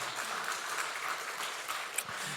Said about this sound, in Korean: 힘내시라고 박수 한번 쳐주시죠.